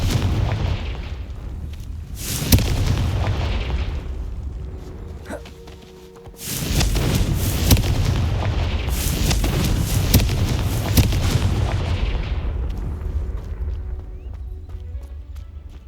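Confringo blasting spells in Hogwarts Legacy go off as several heavy booming explosions, each with a crackling, rumbling tail, and the loud bursts come a few seconds apart.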